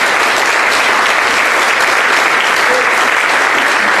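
Loud, steady applause for God from a large crowd at a religious gathering, continuous clapping filling the whole stretch.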